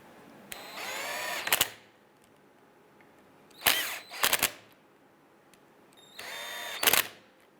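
A power drill tightens the three bolts holding a power window motor on a 1995-2001 Ford Explorer, with three close bursts of whirring, each ending in a short strained stall, separated by quiet pauses.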